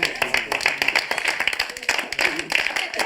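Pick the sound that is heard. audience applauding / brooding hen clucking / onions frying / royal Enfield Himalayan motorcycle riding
audience applauding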